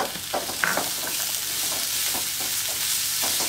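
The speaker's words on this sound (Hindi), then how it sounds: "अभी प्याज और लहसुन को ही भूनने देंगे" Chopped onion and garlic fry slowly in a pan over very low heat for pizza sauce, giving a steady, close sizzle broken by several scraping stirs of a spoon, with no voices.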